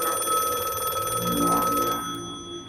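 Telephone ringing in the horror video game Radiolight, a loud, steady electronic bell tone that rings on and then cuts off abruptly, leaving a faint hum.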